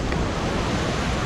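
Ocean waves wash onto the shore along a coastal bike path in Busan. The surf makes a dense, steady rush that is close and loud and mixed with wind buffeting the microphone, and no one speaks.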